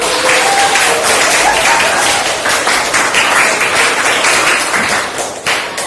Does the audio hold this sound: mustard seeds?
no